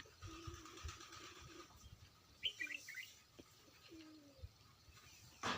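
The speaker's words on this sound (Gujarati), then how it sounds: "જુઓ પક્ષીઓ કબૂતર" Pigeons coo softly in short low phrases as they eat scattered wheat grain, against a faint outdoor village background, with a few brief chirps in between.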